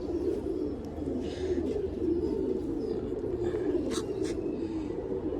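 A mother pigeon coos steadily and close, a low continuous throaty burble running throughout with a few faint higher chirps over it.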